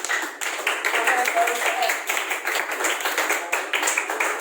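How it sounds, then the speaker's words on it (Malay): A classroom group claps together after a Friday sermon lesson, a dense patter of hand claps with some voices mixed in, fairly close and steady throughout. "bagikan satu tepukan yang gemuruh untuk diri masing-masing"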